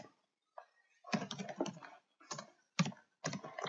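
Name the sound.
typing code on a computer keyboard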